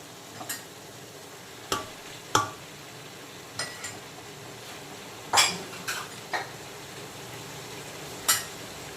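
Egg, meat and prawns stirred into mixed fried rice in a pan, a faint sizzle under sharp, irregular clinks and scrapes of a metal spatula against the pan, close by.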